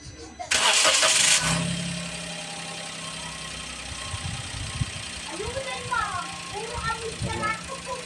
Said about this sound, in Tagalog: paandarin natin yung makina